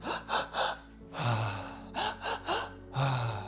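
A person imitates panicked breathing with a run of quick, sharp gasping inhales, loud and close, in bursts of three with fuller drawn breaths between, no speech.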